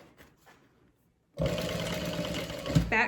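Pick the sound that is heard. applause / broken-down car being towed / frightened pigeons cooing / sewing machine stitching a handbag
sewing machine stitching a handbag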